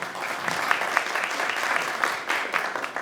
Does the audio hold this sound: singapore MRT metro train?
no